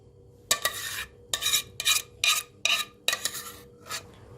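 Cooled custard being spread with a spoon over a sponge cake in a tart mould, heard as six distinct close scraping strokes separated by short pauses.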